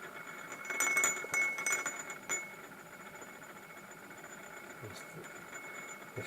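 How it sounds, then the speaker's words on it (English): A magnetic stir bar spins and rattles against the wall of a glass, giving faint irregular clinks and taps over a low motor hum, with a denser burst of rattling early on before it settles down. "I have to be fairly gentle with this particular stir bar, and in that size glass"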